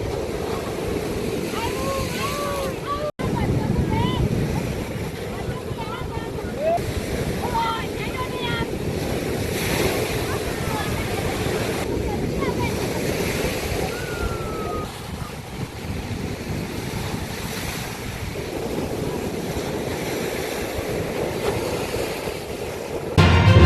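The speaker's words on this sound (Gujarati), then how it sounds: "દરિયા કિનારે ઉઠતા ઊંચા મોજાના દ્રશ્યો કેમેરામાં કેદ થયા છે" High sea waves surge onto the shore at Daman, a continuous loud roar of surf with strong wind buffeting the microphone throughout.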